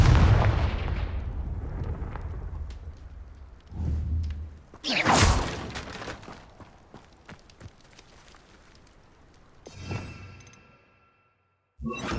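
The Confringo blasting spell in Hogwarts Legacy lands as heavy booming blasts with whooshing bursts. The first blast is loudest and rumbles on, then the explosions come again at intervals before a sudden cut to silence.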